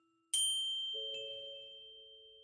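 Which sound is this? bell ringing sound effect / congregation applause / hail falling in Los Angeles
bell ringing sound effect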